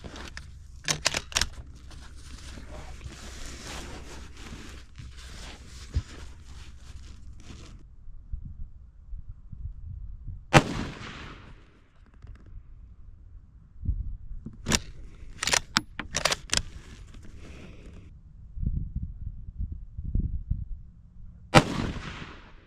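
Ruger American Gen 2 rifle firing .223 rounds outdoors, several sharp single shots spaced apart with short decaying echoes, separated by quiet stretches and faint handling noise.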